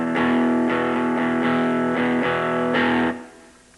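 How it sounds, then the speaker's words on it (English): A clean electric guitar played straight into a practice amp rings out in a series of sustained chords, each one struck, held, then cut off, before fading to a quiet amp hiss. "here's my clean sound going directly into this amp"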